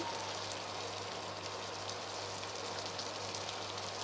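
Pieces of salted hilsa fish, cut beforehand and some with roe, fry in hot spiced oil, giving a steady, dense sizzle with a low hum underneath throughout.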